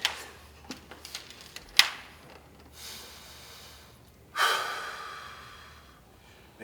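A person breathes hard through the nose while holding a plank during a martial arts footwork workout, with a few sharp snorting exhales and a long gasping breath followed by a trailing sigh, close by and without talk.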